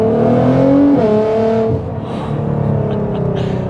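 A Nissan R35 GT-R's engine pulls hard under acceleration, a loud, close, droning tone that climbs and shifts pitch with gear changes before settling to a steadier hum.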